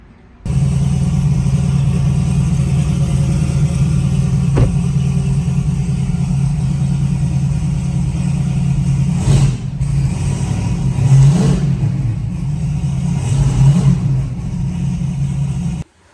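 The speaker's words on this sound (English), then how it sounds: "Alright, got it backed up on the rollers." A turbocharged LT-engined truck idles steadily and loudly in a shop while being backed onto dyno rollers, with a few brief swells in engine note near the end.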